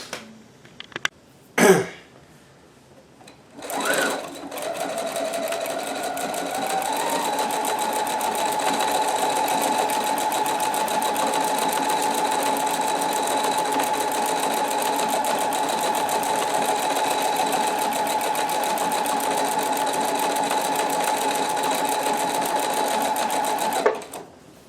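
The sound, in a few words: sewing machine stitching decorative paisley pattern on shirt placket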